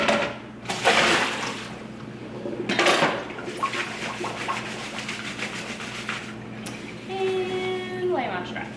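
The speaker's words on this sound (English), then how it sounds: "my apples have sat for quite a while. I'm going to go ahead and rinse them now" Apples rinsed under running water in a kitchen, with splashing, rubbing and gurgling at close range throughout, loud at the start and steady afterward.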